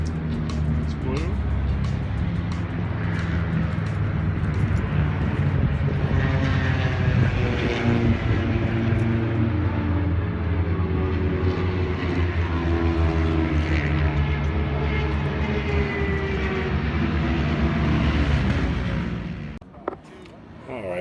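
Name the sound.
vintage two-stroke racing motorcycles going out on warm-up lap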